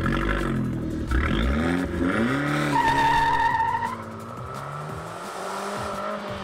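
A Fiat 500 Abarth 595 Competizione engine revs and accelerates close by through its gears, with rising and falling engine pitch, a whining tone and some clatter, and no talking.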